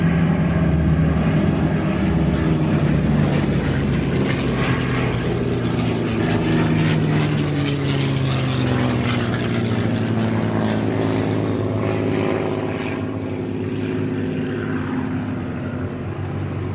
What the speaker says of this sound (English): Now here comes from the left B-17 Sally B.